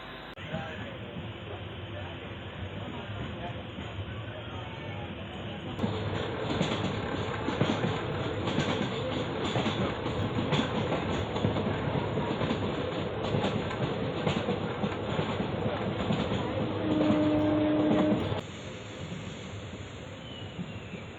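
Guruvayur–Madurai Express pulling out of Kottarakkara railway station in Kerala: a steady, loud rumble and rattle of rolling coaches, building after a few seconds, with brief brake or wheel squeals near the end.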